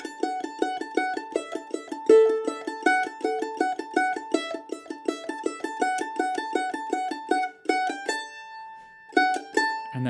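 A mandolin plays the closing phrase of Vivaldi's concerto for two mandolins alone, quick plucked notes in an even running rhythm, bright and close, slowing into a few held notes and a final pluck at the end.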